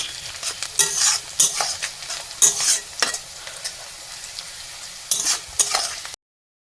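Chicken stirred in a hot pan, sizzling and frying with repeated scraping stirs in bursts, close and fairly loud with no talking.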